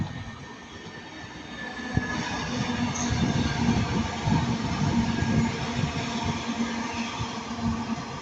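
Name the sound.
Class 331 passenger train passing by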